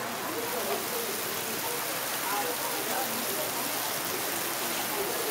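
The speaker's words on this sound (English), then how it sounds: "Now it's raining." Steady rain falling in Sinoe County, Liberia, a loud, even hiss of drops drumming on surfaces that holds without a break from start to finish, with some voices heard faintly beneath it.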